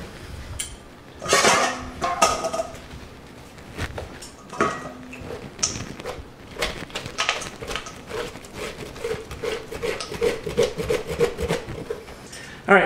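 A metal spoon scrapes out the inside of a pumpkin, with repeated rasping, rubbing strokes and occasional clinks against the shell, close and fairly loud, in irregular bursts.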